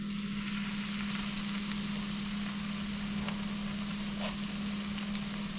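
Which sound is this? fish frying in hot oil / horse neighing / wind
fish frying in hot oil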